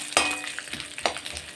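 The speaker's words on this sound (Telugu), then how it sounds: "ఆవాలు చిటపటలాడాక దీనిలో పచ్చిశనగపప్పు వేసి బాగా ఫ్రై" Chana dal frying in hot oil with spluttering mustard seeds, a steady close sizzle broken by a couple of sharp pops and a brief scrape of stirring.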